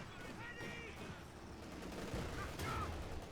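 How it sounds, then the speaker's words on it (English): Rapid gunfire and machine-gun bursts crackle through a Company of Heroes 2 battle between OKW and Soviet forces, a dense, steady wash of shots that swells slightly toward the end, with faint voices underneath. "Guns doing damage."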